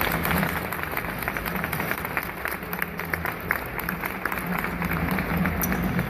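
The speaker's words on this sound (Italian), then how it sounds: "un applauso però ci vorrebbe a questo punto" Audience at the Rimini Meeting applauding: dense, sustained clapping from a large crowd fills the space at steady volume throughout, with no voices standing out.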